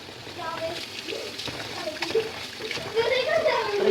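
Water is poured and splashes while being used to cool aadi koozh, a soft sloshing and splattering under ongoing speech that grows louder toward the end.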